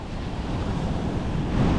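Rough ocean surf breaks steadily against a rock pile, making a loud, continuous wash of roaring water buffeted by strong wind.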